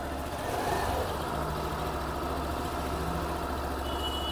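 A 2023 Suzuki Avenis 125 scooter with a 125 cc engine idles close by, a steady low rumble holding evenly throughout with no talk over it.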